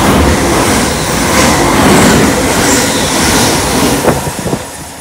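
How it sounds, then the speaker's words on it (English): A fast Class 380 passenger train rushes past at Howwood with a steady broadband roar and rattling wheels, loud and close, with a few clacks near the end. "Another fast train, this time it's going to Largs."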